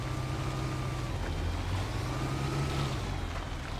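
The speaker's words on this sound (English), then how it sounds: "The engine's really revving hard." Truck engine revving hard in the video game Spintires: Mudrunner on a muddy logging road, a steady loud droning roar with a slowly shifting pitch and no pauses.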